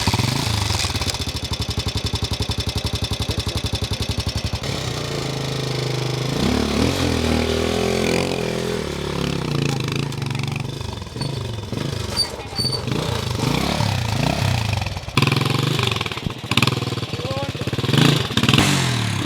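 A homemade motorcycle engine starts and runs at close range, a loud, steady mechanical drone whose pitch shifts as it idles and revs, continuing throughout without talk.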